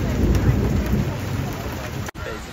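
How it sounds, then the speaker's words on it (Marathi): Monsoon storm in Mumbai with dust and rain: steady rushing rain and low rumbling thunder that is loudest at the start, with a brief dropout near the end. "वादळ येतंय जोरात."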